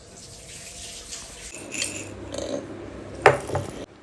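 Water runs from a tap during handwashing before a predawn meal, a steady close splashing stream with a brief clink partway through, then it cuts off abruptly.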